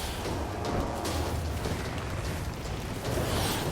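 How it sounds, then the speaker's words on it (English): Winged enemies blowing up in the action game DmC: Devil May Cry, with dense, continuous blasts and rumbling bursts layered over one another, loud and unbroken with a few sharper swells. "Using these little winged bastards explosions against the other enemies is so entertaining."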